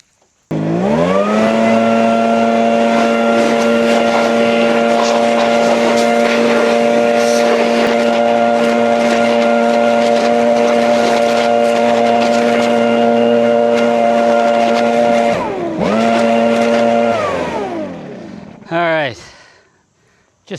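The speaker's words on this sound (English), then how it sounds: "Just doing a little leaf blower work on the tractor." A loud, steady motorized whine of a leaf blower drying a Kubota BX2680 tractor roars close by for about fifteen seconds, dips briefly, then revs up again before cutting off.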